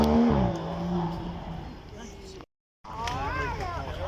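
Twin-turbo supercar engine on a demonstration run at a supercar weekend event, a loud sustained roar with rising and falling pitch, briefly cut to silence, under steady commentary.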